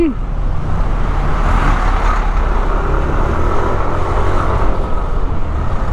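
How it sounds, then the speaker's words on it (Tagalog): Road traffic in the Philippines heard from a Yamaha Nmax 155 scooter, a loud continuous rumble of engines and tyres with a steady roar and no clear gaps. "Traffic talaga."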